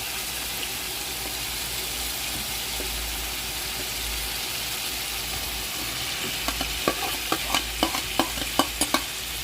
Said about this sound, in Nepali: त्यसलाई मजाले मिक्स गर्छु।